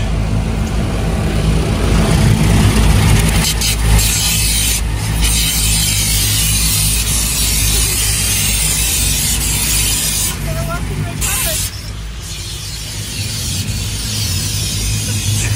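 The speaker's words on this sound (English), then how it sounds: "Clean the car. There's the pressure wash." A pressure washer spraying a car at a car wash, a loud continuous hiss with machinery rumble, interrupted by brief sharper bursts and a drop in level near the end.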